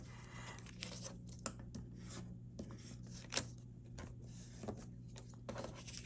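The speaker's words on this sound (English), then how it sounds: "grab our bone folder just to burnish the score tape in so that it gets a really nice stick" A bone folder rubs and scrapes over score tape on a paper gift bag in short, close strokes, quiet and dry with a few sharper scuffs.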